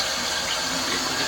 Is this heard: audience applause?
no